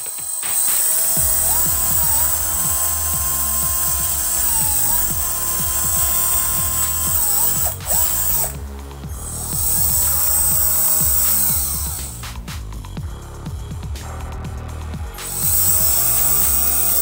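A LOMVUM 12V lithium cordless electric drill runs at speed setting 2 with a loud, steady, close whine, its pitch wavering slightly, with brief pauses and restarts along the way.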